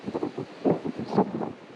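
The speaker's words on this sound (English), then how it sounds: "Behind us here, it's windy as all hell on the beach." Strong wind on a beach at Esperance buffets the microphone in a continuous, gusting roar, with no voices.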